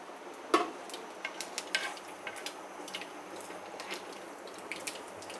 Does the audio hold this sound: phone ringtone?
no